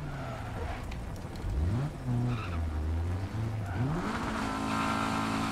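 A rally car in Dirt 4 revs hard, the engine pitch climbing and dropping through gear changes, with tyre skids and squeals as it slides, loud and close throughout.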